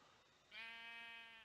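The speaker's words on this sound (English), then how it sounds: "Hello, sheep." A sheep bleats in the Minecraft video game, one clear drawn-out bleat that begins partway through and holds steady for about a second against a quiet background.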